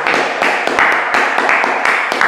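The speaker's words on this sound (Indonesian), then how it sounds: "Tepuk tangan buat teknisi Binet." Applause for a technician during a spirited gathering: steady, fairly loud clapping from a group, continuous dense slaps with sharper accents every half second or so, no talk over it.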